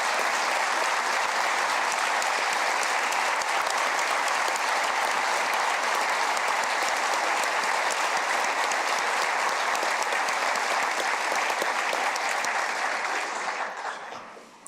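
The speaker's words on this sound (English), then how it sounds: "you all join me in giving Leda Wise Spirit a round of applause today?" Sustained applause from a large audience at a state of the state address, steady and dense throughout before tapering off at the very end, with no speech over it.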